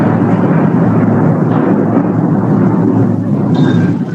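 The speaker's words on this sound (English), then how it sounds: "I am shutting down the class because it's too much of thunder." Loud, continuous rolling thunder from a storm rumbles heavily for the whole stretch, a deep sustained roar with no pauses and no voices over it.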